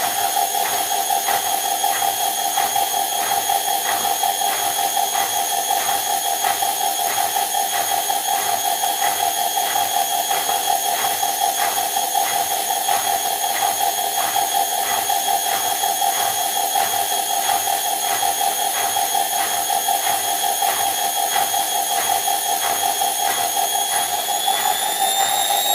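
A Beko EcoCare washing machine spins steadily, its drum giving a continuous whirring hum with a rapid rhythmic pulsing and a high-pitched whine that may come from a worn bearing, unbroken and without voices for the whole stretch.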